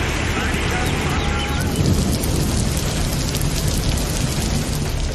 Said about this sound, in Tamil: பெரம்பலூர் மாவட்டத்தில் குன்னம், கொடக்காநத்தம், மருவத்தூர், சிறுகன்பூர் உள்ளிட்ட பகுதிகளில் கனமழை பெய்தது.